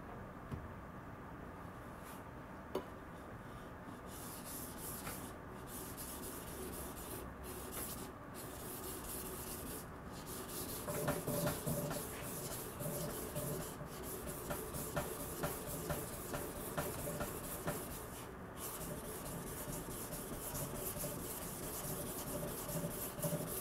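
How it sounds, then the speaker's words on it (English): Steady rubbing and scraping of a Yoshikane 180mm petty knife of SKD-11 steel stroked freehand across an inexpensive 800/4000 grit combo whetstone, close and continuous, growing rhythmically louder in the second half. "I'm going to use inexpensive 800 grit and 4000 grit combo stone."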